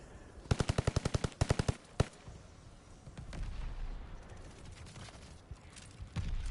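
Rapid automatic gunfire from a Call of Duty match with blue anime tracer weapons, two quick bursts of evenly spaced shots then a single loud crack, followed by rumbling background action and further distant shots.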